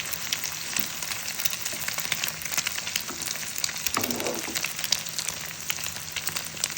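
Egg frying in a pan with vegetables while being stirred and mixed, a soft steady sizzle with faint scraping, fairly quiet and without voices.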